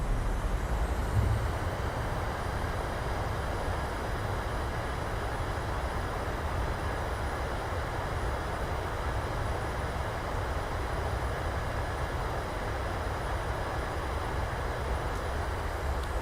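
Boeing 737-800 thrust reversers roaring during landing rollout in Microsoft Flight Simulator, a steady, loud broadband rush of engine noise holding constant throughout with a faint high whine on top, no voices.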